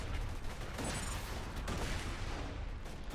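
Grenades explode repeatedly in the video game Borderlands 2, a dense, rumbling barrage of booms and crackling blasts rolling continuously at moderate loudness.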